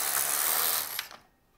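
An LK-150 knitting machine carriage makes one short, close pass across the needle bed, giving a quick mechanical ratcheting whir that stops abruptly after about a second.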